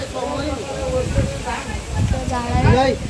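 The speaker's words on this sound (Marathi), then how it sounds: "वारा खूप सुटलेला आहे बघा।" Steady wind rushes and hisses across the microphone, with voices talking over the gusty noise.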